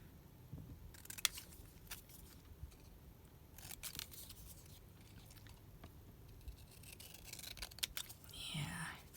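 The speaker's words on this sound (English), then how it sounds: "I think I'm going to trim this down shorter." Scissors trim card paper at close range, with a series of crisp snipping cuts spread across the stretch and soft handling rustles between them, quiet and near.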